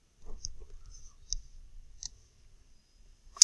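Computer mouse clicking OK in a software dialog: several light, crisp clicks spaced apart in a quiet room, ending with one sharper click.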